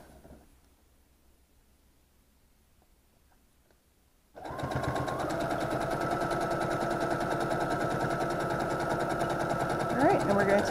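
A sewing machine stitches rows of a quilt, starting abruptly after a near-silent pause and running as a fast, steady, close mechanical whir that continues unbroken to the end.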